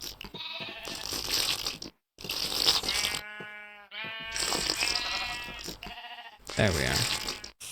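Sheep bleat in the video game Minecraft in a series of close, wavering, nasal bleats that come in separate bursts with short silent gaps between them.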